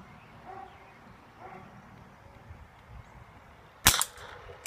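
A single sharp, loud crack from a Black Ops Exterminator CO2 air gun fires near the end, standing out over a quiet outdoor background with faint ambient noise.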